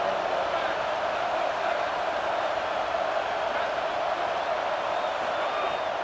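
Stadium crowd in College Football 27 at Baton Rouge, a dense continuous roar of many voices filling the space at steady loudness without breaks.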